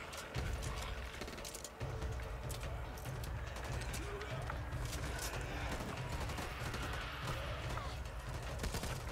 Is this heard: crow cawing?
no